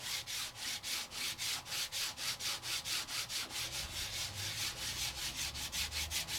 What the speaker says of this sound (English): I'm going to ink up both sides of my embossing folder because I'm a girl who likes options. And I'm just gonna rub it all over.